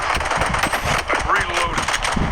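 Automatic weapon fire crackles in rapid bursts through a battle royale video game firefight, dense and continuous, with a player's voice talking over it.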